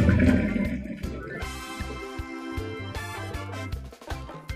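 Cooked cluster beans are poured from a pot into a strainer, a steady rush of draining water with clattering and splashing, loudest at the start and continuing throughout.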